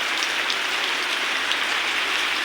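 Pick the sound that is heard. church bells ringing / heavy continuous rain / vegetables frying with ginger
heavy continuous rain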